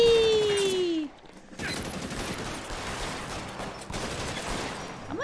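Gunfire in the L.A. Noire video game rattles in a dense, continuous burst of shots mixed with game noise, loud at first with a falling whine, then a short dip before the steady shooting resumes.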